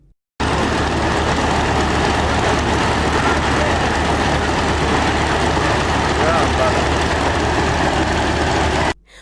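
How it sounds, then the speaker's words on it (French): A homemade propeller aircraft engine runs steadily before takeoff in Ouagadougou, a loud continuous low droning hum that holds even throughout, starting and stopping abruptly at the edges. "En attendant son décollage, le moteur tourne."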